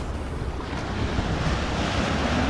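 Sea waves wash in along a shoreline, a continuous surf roar with heavy wind buffeting the microphone, steady and close throughout with no voices.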